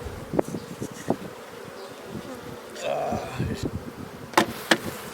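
Honey bees from a caught swarm hum around frames as a honey frame is set beside them, a soft continuous buzz with a few close passes, while a person speaks briefly and handles equipment with light knocks.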